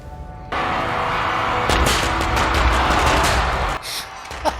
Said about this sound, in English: Firecrackers. Firecrackers.